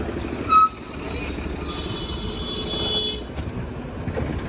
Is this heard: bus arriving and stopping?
yes